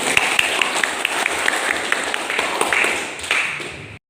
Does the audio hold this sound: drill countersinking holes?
no